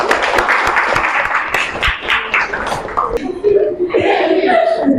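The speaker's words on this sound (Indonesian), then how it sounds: "Sebelumnya tepuk tangan buat Mbak Laila" Classroom audience of students clapping in a loose, uneven burst, close and loud, with voices and chatter mixed in as the applause thins out.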